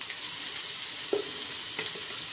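Finely chopped onions fry with a little salt in a pan, giving a steady, even sizzle with a couple of soft stirring knocks and no one talking.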